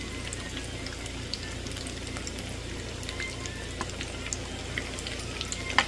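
A chile relleno fries in a pan with a steady, moderate sizzle and small scattered pops throughout.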